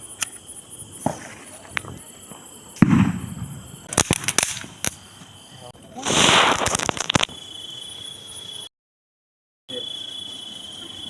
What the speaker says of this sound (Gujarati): તમને બીડી બોમ્બ ફોડીને બતાવું.